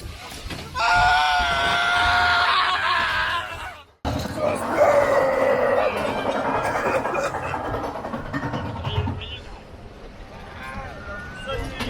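Riders scream on an amusement park ride at PortAventura, with long, loud, sustained wailing cries that break off briefly and then resume, mixed with other voices.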